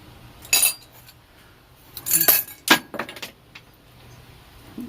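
Metal parts from a 200A black band Coleman lantern clink and rattle in a small metal strainer, a few bright jangling bursts separated by quiet pauses.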